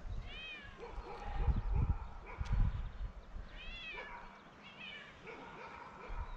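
A cat in a rural village garden meows several times, fairly close, in short rising calls spaced apart, with soft background noise and a faint voice in between.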